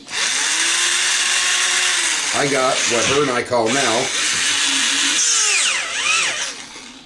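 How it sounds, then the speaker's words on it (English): A corded electric drill powered by a LiPo battery whirs in short bursts, its motor pitch rising and falling close by, while a person talks between the runs. "the not so cordless drill"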